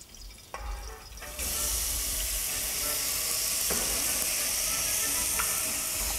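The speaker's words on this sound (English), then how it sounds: "And cold water till cover the peas" Cold water pours into a pot of peas cooked with fried herbs, Florentine style, beginning as a brief trickle and then becoming a loud, steady rushing hiss that lasts to the end.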